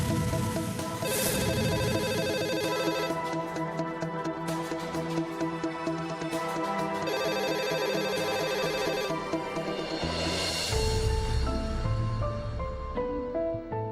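A telephone rings repeatedly in a home scene from a Marathi TV serial, with bright, tonal ring bursts layered over background music, fairly loud and continuing for several cycles without speech.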